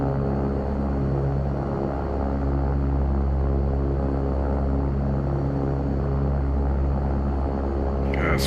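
Steady, continuous engine roar of an Airbus A319 on the takeoff roll in X-Plane 12, loud and even with a constant drone throughout and faint voices underneath.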